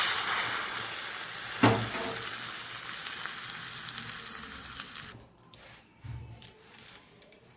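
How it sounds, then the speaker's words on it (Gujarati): Cumin seeds and asafoetida tempering sizzle loudly in hot oil, crackling for several seconds before the hiss dies down, followed by a few metallic clinks and stirring sounds. "તેલ ગરમ થઈ ગયું છે, તો 1 નાની ચમચી જેટલું જીરું ઉમેરશું"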